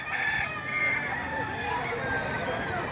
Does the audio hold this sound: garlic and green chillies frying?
no